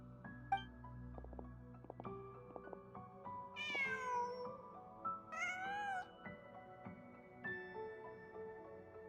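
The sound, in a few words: cat meowing in the Genshin Impact video game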